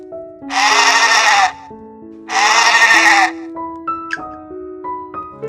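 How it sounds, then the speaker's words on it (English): Sheep bleating: two loud, drawn-out bleats close to the listener, each about a second long, heard over a simple background melody that continues on its own afterward. "sheep"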